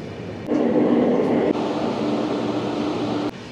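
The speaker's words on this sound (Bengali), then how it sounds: "ট্রেন এখন স্লো স্লো যাচ্ছে" A Duranto Express rolls slowly through hilly ghat country, a steady loud rumble of wheels and carriage with a sharp shift in tone partway through, no voices.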